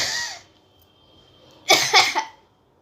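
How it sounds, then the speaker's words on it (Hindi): A child coughs in a quick burst of three harsh coughs, close by, after a brief breathy sound and a quiet pause. "इसको गाइस खांसी हो गई है"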